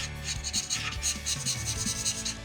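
Black ink from a chisel-tip Pro Marker rubbing across paper as a drawing is filled in: continuous close scratchy strokes in quick back-and-forth rhythm, with a faint tonal hum underneath.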